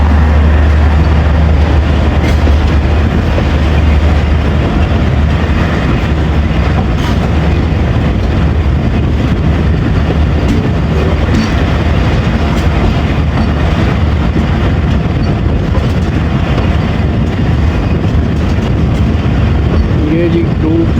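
Baba Fareed Express pulling out of Pakpattan station, a loud continuous low rumble of the train rolling, with faint rail clatter, heard from on board over about twenty seconds.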